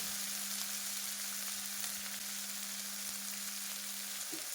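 Mixed vegetables soften in hot oil for a soybean pulao, making a soft, even, unbroken sizzle with a faint steady hum beneath and no talking.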